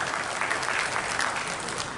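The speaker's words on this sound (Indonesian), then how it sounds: "Tepuk tangan bagi kita semua." Applause from an audience at a formal Indonesian ceremony, steady dense clapping filling the whole stretch at even loudness with no voices on top.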